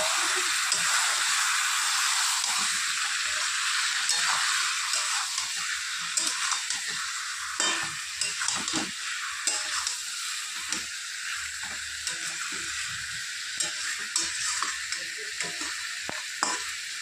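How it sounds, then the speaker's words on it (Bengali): Spices sauté in mustard oil with salt, giving a continuous close sizzle and hiss broken by scraping stir strokes throughout. "কিছুটা সর্ষের তেল, আর দিয়ে দিচ্ছি পরিমাপ মতো নুন দিয়ে ভালো করে কষিয়ে নেব।"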